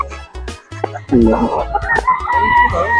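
A four-month-old pure Golden Boy Sweater gamecock crowing close by, a strained, rising crow after a few clucks, with people talking nearby.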